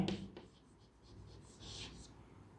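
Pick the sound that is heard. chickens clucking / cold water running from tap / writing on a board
writing on a board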